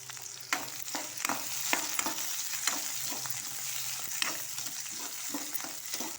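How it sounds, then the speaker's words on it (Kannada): Onions sizzle steadily in a pan for masala pasta while a spoon stirs and scrapes them, with repeated clinks and scrapes over the continuous frying hiss; no talking. "ಈ ಉಳ್ಳಾಗಡ್ಡಿ ಎಲ್ಲ ಸರಿಯಾಗಿ ಫ್ರೈ ಮಾಡ್ಕೋಬೇಕ್ರಿ."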